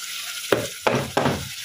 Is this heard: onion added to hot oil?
yes